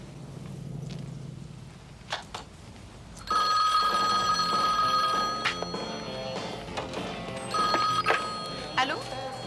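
An old telephone bell rings loudly in two long bursts indoors, with footsteps and handling noises around it and a voice speaking in between.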